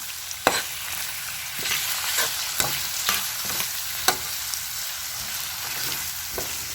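Ham frying in a pan gives a steady, close hiss and sizzle, punctuated by sharp clicks and scrapes of stirring.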